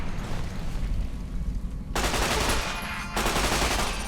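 9mm submachine gun fire in the video game Fallout: New Vegas, loud sustained automatic bursts with a dense crackling rattle and no pauses.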